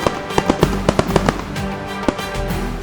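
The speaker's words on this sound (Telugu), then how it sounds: "కొంతమంది రైతులు రాత్రి వేళలలో టపాసులు పీలుస్తారు" Firecrackers set off at night by farmers to scare wild animals from crop fields, a rapid string of sharp, loud bangs in an irregular burst, followed by a few more scattered pops against a rumbling background.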